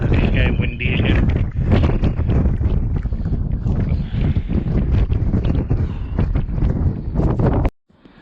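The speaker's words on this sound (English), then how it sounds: "it's getting windy again." Wind gusting over exposed gritstone rocks at Ramshaw Rocks, a loud continuous buffeting roar close on the microphone that cuts off abruptly at the end, with a voice talking over it.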